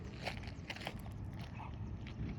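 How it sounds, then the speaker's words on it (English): A dog barks in short, repeated bursts over a steady low rumble of passing traffic, including a truck driving by, moderately close. "There's a truck driving in front of me as the dog is barking."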